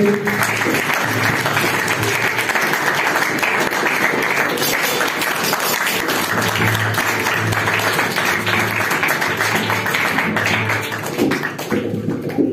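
A church congregation at a prayer meeting applauds for over ten seconds, a steady, full crowd clapping with a low hum beneath it, tapering off near the end.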